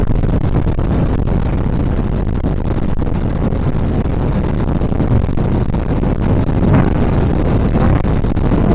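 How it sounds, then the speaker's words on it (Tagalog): Strong wind during a rainy motorcycle ride roars and buffets the microphone continuously, a dense, rumbling rush with a few brief louder gusts near the end. "Lakas ng hangin."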